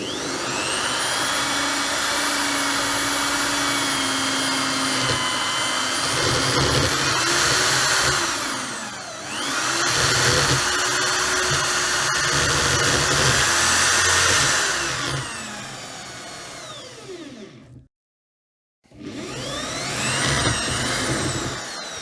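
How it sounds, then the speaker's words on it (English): Power drill spinning a step cone bit through material, a loud continuous whirring and grinding that rises and falls in pitch over several passes, then stops briefly before starting again. "So we're going to give that a drill through that and see how it cuts."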